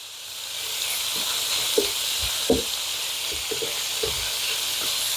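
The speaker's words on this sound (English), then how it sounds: "what we're looking for is for this bacon to become brown. And crunchy" Bacon crackles and sizzles in a pan as it browns, a soft steady hiss broken by scattered pops and light scraping from a wooden spatula, heard close with no talking.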